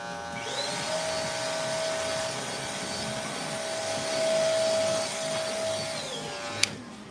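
Electric hair clippers buzz steadily during a live fade haircut, tipped for blending. The hum is close and sustained, briefly swells partway through and cuts off at the end with a small click.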